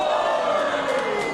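A wrestling crowd at an indie wrestling show roars after a cannonball dive to the outside. The sustained, dense cheering and yelling stays loud and even throughout the short burst.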